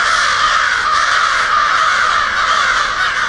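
Crows cawing in a forest, a loud, dense, continuous mass of harsh calls close by, alone without talk.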